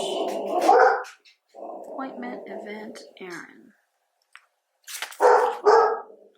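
A dog gives a few short barks and whimpers close to the microphone, interrupting a person who speaks softly, almost whispering, with pauses between phrases.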